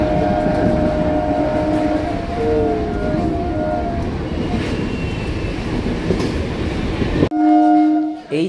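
Sealdah–Krishnanagar up local train (31835) running at speed, a loud steady rumble of wheels and carriages with rattling, and a sustained horn blast near the end.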